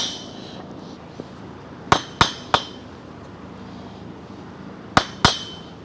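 A block of wood knocks against a bearing in sharp, close taps, three in quick succession, a pause, then two more, each ringing briefly with a slight metallic edge over a quiet background.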